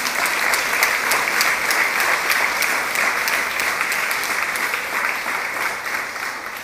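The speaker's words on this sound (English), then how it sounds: "Give them a round of applause." An audience at a university inter-faith service claps in a sustained round of applause, dense and even, slowly fading toward the end.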